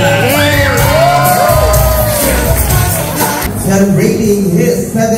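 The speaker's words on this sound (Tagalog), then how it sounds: "palakpak na may kasamang sigawan" Party guests at a 70th birthday celebration whoop, shout and cheer loudly as a crowd, with overlapping voices and excited yells filling the room over steady background noise.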